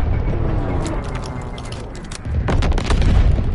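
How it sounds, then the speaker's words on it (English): Anti-aircraft fire explodes in the video game Call of Duty WWII as loud, rumbling blasts and cracking bursts roll over each other, swelling toward the end. "Enemy anti-aircraft fire."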